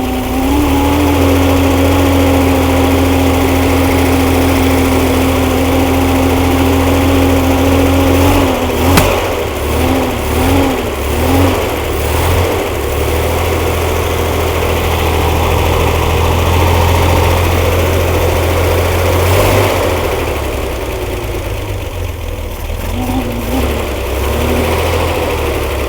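An old basket-case 140 engine runs steadily after its test fire, a loud continuous mid-pitched drone that idles with a few uneven surges and revs partway through.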